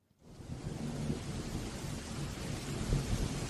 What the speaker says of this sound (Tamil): ஒரு ராத்திரி நேரம் வெளியே ஜோராக மழை பெய்யுது